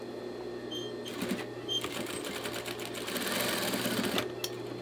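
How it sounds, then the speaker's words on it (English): A sewing machine runs a top stitch along a curtain hem, a steady close mechanical whir with rapid needle clatter that speeds up and slows, starting and stopping a few times. "let's just top stitch that down too"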